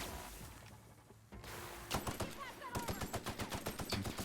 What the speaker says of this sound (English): Oh god, things shooting at me.